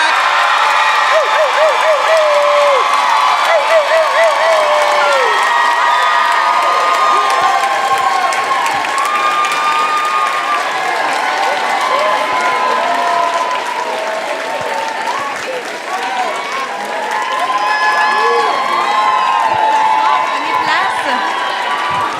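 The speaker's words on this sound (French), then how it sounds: "Faites un tonnerre d'applaudissements pour Arnaud Soli et Catherine Levac!" A live comedy-club audience at Club Soda applauds and cheers to welcome Arnaud Soly and Katherine Levac, a loud, dense, sustained roar of clapping with whoops and shouted voices over it.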